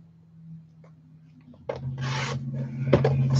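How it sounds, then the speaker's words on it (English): A Stampin' Trimmer paper trimmer slices paper, a short scraping rasp of the blade sliding through, preceded by a low hum and followed by soft rubbing and handling sounds. "I'm using my Stampin' Trimmer thingy"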